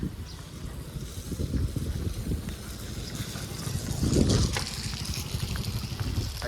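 Heavy rain and strong gusty wind sweep through an outdoor fair, a constant rushing roar buffeting the microphone and swelling in louder gusts, with no clear speech.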